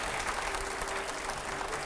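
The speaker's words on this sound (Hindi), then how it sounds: "पहले जोरदार तालियां होनी चाहिए" Steady, dense applause from a television studio audience, even and sustained throughout with no pauses, a constant wash of many hands clapping at once.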